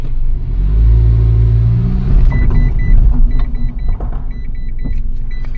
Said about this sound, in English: let's move the vehicle in front.